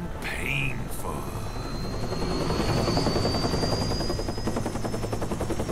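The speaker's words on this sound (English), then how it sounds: "Do I have to fight him and helicopters at the same time?" A helicopter in the video game Metal Gear Rising drones steadily with a fast rhythmic rotor chop and a high whining turbine tone, holding at an even level throughout.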